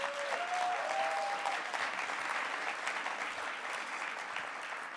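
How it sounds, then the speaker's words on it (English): Sustained applause from a large audience at an opening-remarks event, a dense steady wash of clapping with a brief high tone near the start, holding level throughout. "So let's give her a round of applause."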